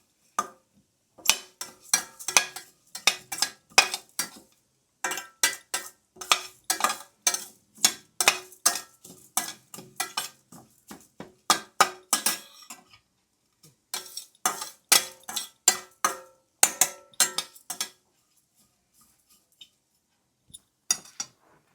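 A spoon scrapes and clinks busily against a steel pan while idli powder ingredients are dry-fried. The strokes come in quick, bright bursts with short pauses between them, then slow to a few taps near the end.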